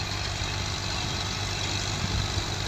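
A Ghazi Model 11 tractor fitted with a 54-blade rotavator runs steadily, a close, continuous low engine drone with a rough rumble, heard alone without talk.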